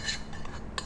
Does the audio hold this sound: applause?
no